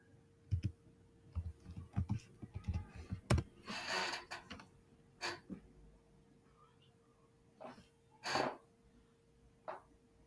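Scattered bursts of computer keyboard typing and clicks sound close and fairly quiet in a room with a faint steady hum, separated by pauses.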